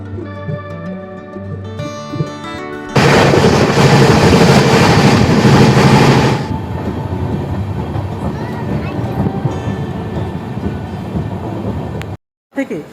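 The Mumbai Mail passenger train rumbles along the rails near Panagarh station, with a loud burst of rushing noise in the middle, then a steadier, quieter clatter continues.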